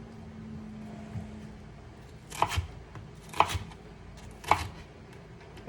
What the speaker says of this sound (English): Chopping peppers goes by extremely fast,